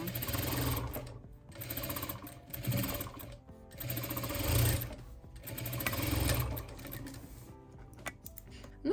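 A sewing machine stitching the final seam around the perimeter of a fitted sheet, rapid buzzing runs of stitching broken by short pauses, close and fairly loud.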